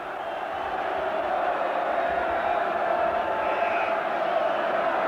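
A good-sized football crowd at the Goldstone Ground for Brighton & Hove Albion against Manchester United on a wet afternoon makes a steady, dense roar of murmuring and shouting that holds for several seconds with no break.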